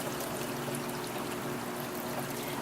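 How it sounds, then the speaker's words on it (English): Film fixer poured back into a gallon jug through a funnel, a steady continuous liquid trickle and pour with no talking. "We will pour it back into the fixer gallon."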